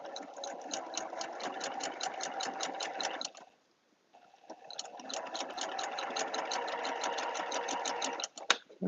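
Domestic sewing machine stitching through a quilt block, a steady rapid run of needle clatter that stops briefly mid-way and then resumes, close and loud with no talk.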